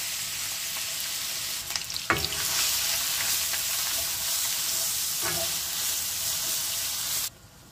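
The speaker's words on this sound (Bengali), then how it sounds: "তেল গরম হয়েছে, আমি 1 কাপ গ্রেট করা অনিয়ন দিয়ার" Grated onion, about a cup, sizzling and frying in hot oil for a fish curry, a steady bright hiss with a couple of sharper crackles and stirring scrapes, close and continuous before cutting off abruptly near the end.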